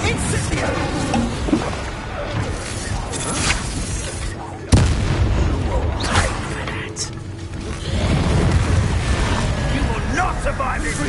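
Incendio fire spell cast in the video game Hogwarts Legacy, a loud burst of flame and rumbling booms amid dense battle noise, with a sharp impact midway and voices talking over it.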